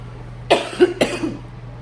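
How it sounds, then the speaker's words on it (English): Two sharp, close coughs about half a second apart, each a harsh burst with a short rough tail, over a low steady electrical hum and no talking. "excuse me, I'm gonna cough."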